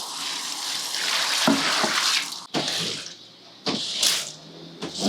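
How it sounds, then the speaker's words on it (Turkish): Water poured out in several splashing bursts onto a floor during cleaning, each pour a broad rushing gush that stops abruptly, close and fairly loud with brief pauses between. "Suyu buraya döküyorum."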